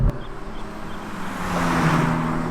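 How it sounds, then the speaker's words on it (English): An Acura Integra Type S exhaust note swells briefly from a moderate hum into a louder, rising drone as the car accelerates, with no one speaking. "The exhaust isn't overly loud, but you will notice it, and so will the bystanders."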